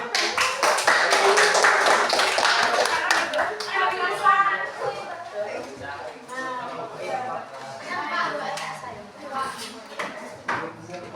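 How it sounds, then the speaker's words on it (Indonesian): Schoolchildren clapping their hands together in a classroom: a burst of brisk clapping for about four seconds that fades as children's voices and chatter take over. "tepuk tangan"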